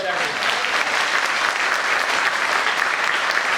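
Enthusiastic applause from an audience at a networking talk, a dense, steady clatter of many hands clapping that fills the whole stretch at close range.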